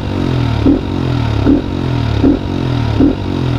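Loud, noisy motorcycle engine fitted with a machined (bored) camshaft, running close with a lumpy idle and four evenly spaced blips of revving, a mechanical clatter underneath throughout.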